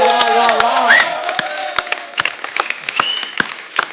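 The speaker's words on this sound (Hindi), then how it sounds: "एक बार जोरदार तालियां हमारे मेहमानों के लिए।" A studio audience at The Kapil Sharma Show, an Indian comedy talk show, applauds and cheers for the guests: loud, dense clapping with whoops and shouts, close and continuous for the whole stretch.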